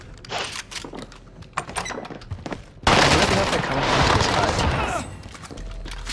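Rapid bursts of automatic gunfire from the NZ weapon in a video game crackle in sharp clusters, followed by a sustained loud noisy roar for about two seconds before fading.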